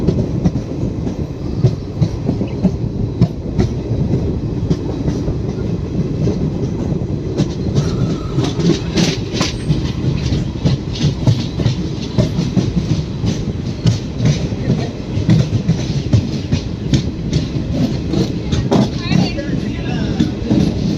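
The Trichy to Tambaram intercity special express rumbles along the rails near Chidambaram station with steady clickety-clack and rattling carriage noise, heard from on board, continuous and fairly loud.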